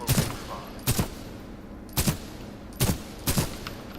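Weapon fire in the shooter game Titanfall 2 at a practice target: five sharp, loud single shots spaced unevenly about a second apart, each with a short crack and brief tail.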